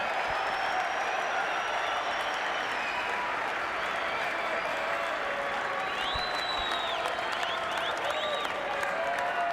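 Cricket crowd at an India versus Australia Test match in 2004 applauding a batsman's fifty, with sustained dense clapping from a large stadium audience and scattered whistles, under a commentator's voice.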